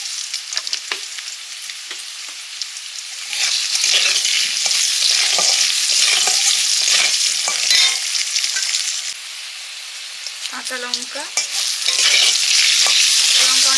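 Potatoes sizzle in hot oil in a pan and are stirred, with scraping strokes over a continuous frying hiss that rises and dips; a voice speaks briefly.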